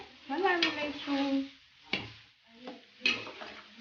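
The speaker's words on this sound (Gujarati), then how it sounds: "ચમચાની મદદ વડે તેને હલાવી લઈશું." A spoon stirs steamed dhokla pieces through a hot tempering of oil and turmeric in a pan, giving a few scraping, clattering strokes over a soft sizzle, with a faint voice nearby.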